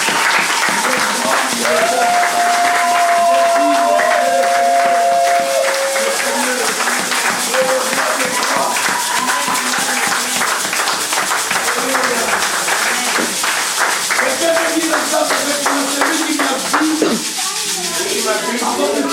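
A church congregation in worship claps and cheers together to acclaim the Lord, dense sustained applause filling the room with voices and singing tones over it, steady and loud throughout.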